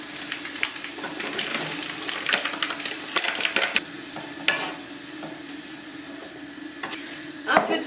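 Two packs of bacon lardons sizzle and crackle in a hot pan, with a steady frying hiss broken by several sharp pops and stirring scrapes, close and moderately loud.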